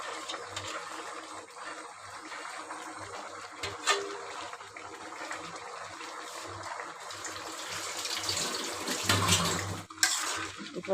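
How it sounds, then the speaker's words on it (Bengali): A utensil scraping and clinking in a pan while bottle gourd and egg curry is stirred, close and irregular over a wet, sizzling background, with louder clatters near the end. "এই একটু আমি নাড়াচাড়া দিয়ে দেবো"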